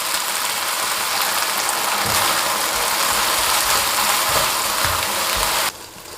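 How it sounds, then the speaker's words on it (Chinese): Shredded pork and green pepper strips stir-fried in a hot wok, a steady loud sizzle running throughout with a few low scraping knocks of the spatula, then cutting off sharply near the end. "肉丝微微变色后，加入青椒丝，翻炒均匀后，倒入调料汁儿"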